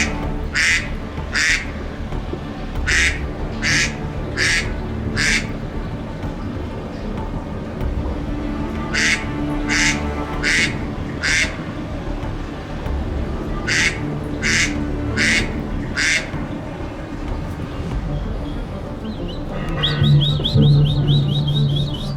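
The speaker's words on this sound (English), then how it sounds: "Yes, I know there's a duck." A duck quacks in loud repeated bursts, several calls in quick rhythmic runs separated by pauses, close and clear over a busy background, with a higher chirping call near the end.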